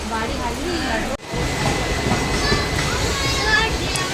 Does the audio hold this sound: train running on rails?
yes